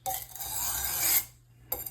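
A knife blade is stroked along the coarse side of a sharpening stone, a gritty rasping scrape lasting about a second, a short pause, then the start of another stroke, close and fairly quiet.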